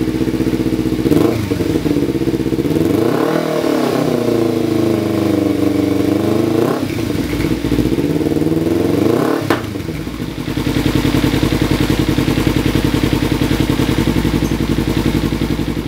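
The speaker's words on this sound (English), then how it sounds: "And here is how the exhaust sounds like." A Kawasaki Ninja 300 motorcycle with an aftermarket exhaust revs loudly up close, several throttle blips rising and falling before settling into a steady, rumbling idle.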